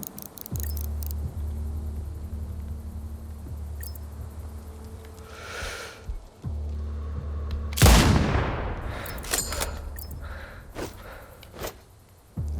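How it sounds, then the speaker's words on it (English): Explosives shot in the shooter video game Sniper Ghost Warrior Contracts 2, a sharp loud gunshot burst followed by a rumbling blast and scattered debris sounds over low game ambience. "So I want to shoot the explosives."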